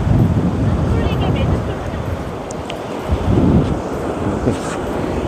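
Strong wind buffets the microphone at Geumgap Beach on Jindo, a steady roaring rush with low rumbling gusts and faint surf behind it, with no speech heard.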